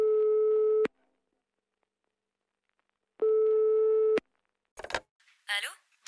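A telephone busy tone sounds after a call is cut off: two steady beeps, the second after a long silent gap, followed by brief voice fragments.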